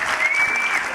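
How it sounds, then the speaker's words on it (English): An audience breaks into brisk, dense clapping for someone in the room, loud and sustained with a thin high tone running through part of it. "Everybody clap for Lisa, embarrass her."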